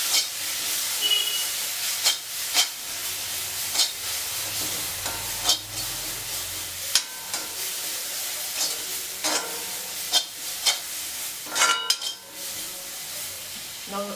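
Turmeric and chili powder are stirred in a hot pan: a steady sizzle carries a run of quick spoon scrapes and knocks against the metal, close and fairly loud, with no talking.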